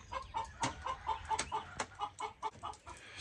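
Chickens clucking close by in a quick series of short, evenly spaced clucks over soft background noise, with no talking.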